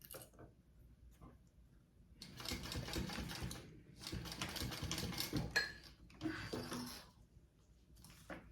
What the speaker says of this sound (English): And then I am going to top stitch these zipper tabs on.